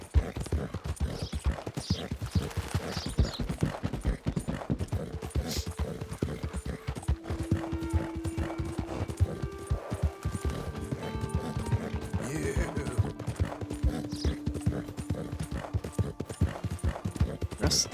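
Horse hooves clip-clopping steadily while riding in the Red Dead Redemption 2 video game, a continuous quick rhythmic patter at moderate level with faint game ambience and no talk.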